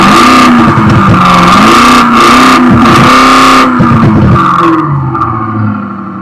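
Electronic THOR exhaust on a 2020 Mercedes W118 CLA180 coupe imitating a Lamborghini Urus, a loud continuous engine roar with several revving rises and falls, close by, easing off near the end.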